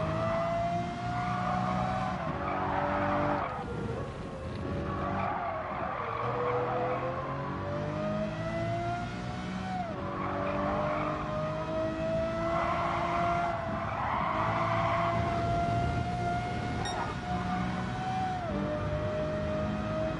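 A powerful race car in Gran Turismo 7 holds a steady, loud engine note, rising and dropping through gear changes, with tire skids and squeals as it corners. No one speaks.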